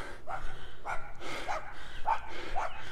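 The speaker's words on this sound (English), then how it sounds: "I've got dogs storming me." Dogs bark in a string of about five sharp yaps roughly every half second, fairly close and loud against a steady background noise.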